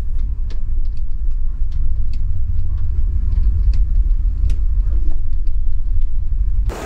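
An overnight highway bus with private-room seats runs from Hakata to Shinjuku, giving a loud, deep, steady engine and road rumble from inside the cabin. Faint ticks and rattles sit above it, and no one speaks.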